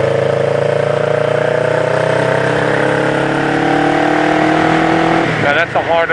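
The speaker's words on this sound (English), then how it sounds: "I'm going to gas up and lean into it and lean the bike also." A motorcycle engine rises in pitch as the rider opens the throttle while leaning the bike into a turn, a steady climbing drone that cuts off abruptly near the end. A voice talks over it.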